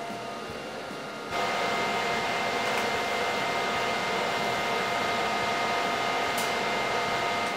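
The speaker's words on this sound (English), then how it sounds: "So we're gonna weld right in here, here, going in a cross pattern" A Miller MIG welder joining coffee table supports: after about a second of quiet background, a steady, loud, crackling hiss starts and runs unbroken to the end, heard close with no talking.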